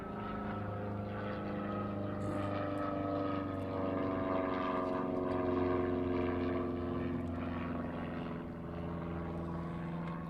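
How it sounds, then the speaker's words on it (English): A propeller airplane flies overhead during an outdoor press briefing, its steady droning hum holding loud and constant throughout with layered tonal engine harmonics and no talk. "I'm just going to let this airplane fly overhead here."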